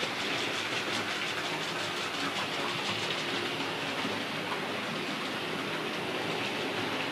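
A diesel locomotive, of the Class 31 or 37 type seen at Stratford depot, trundles round a circuit with a steady, dense rumble and a faint rhythmic clatter that stays even throughout.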